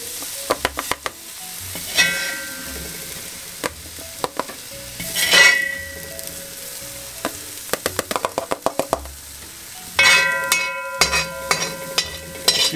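Browned onions sizzle in a frying pan for beef stroganoff while a utensil stirs and scrapes them, giving repeated clacks and scrapes over a soft, steady fry.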